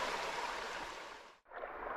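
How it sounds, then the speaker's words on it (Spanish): Clear river water rushing steadily over small stones in a countryside swimming spot, a continuous broadband wash that drops out for an instant near the end before resuming. "agua cristalina, agua que corre"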